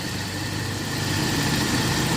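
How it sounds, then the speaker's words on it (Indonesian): A 2004 Toyota Kijang LGX with a 1.8 engine and manual gearbox idles steadily, a low, even mechanical hum with a faint rhythmic pulse, close and continuous. "untuk suara mesinnya seperti ini, kondisi mesinnya ya"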